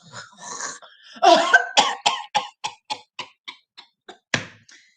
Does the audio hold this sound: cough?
yes